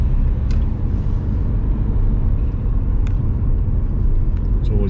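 A car drives a twisty mountain section of Romania's DN1/E60 road toward Brasov in late autumn, with steady loud engine and road rumble heard from inside the cabin.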